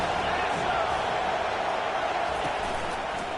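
Stadium crowd noise from an NCAA College Football 25 video game, a steady, dense roar of many voices at moderate level, continuous with no distinct cheers standing out.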